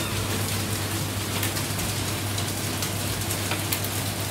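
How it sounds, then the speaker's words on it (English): Pea-size hailstones fall outdoors, a steady dense patter of many small impacts on surfaces, continuous and fairly loud with a low constant hum underneath. "Oh my gosh, it's hailing."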